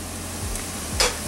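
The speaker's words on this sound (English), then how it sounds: "Now this is sizzling slow." Paneer frying with dry spices in a pan over medium heat gives a steady, low sizzle with a few stirring scrapes and one brief louder hiss near the end.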